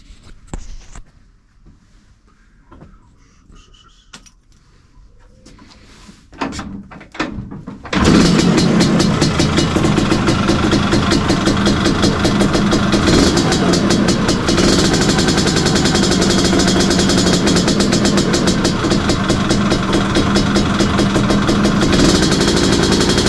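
A few quiet seconds of clicks and rattles, then a Lambretta scooter engine bursts into life and runs loud and steady, a continuous idling drone.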